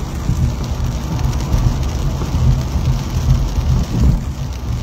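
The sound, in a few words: rain falling on a highway road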